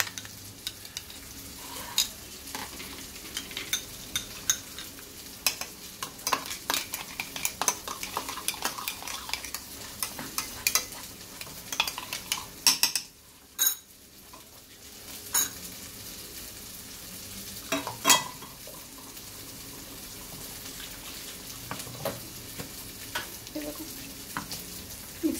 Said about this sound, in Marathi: मसाला छान भाजून घ्यायचा आहे।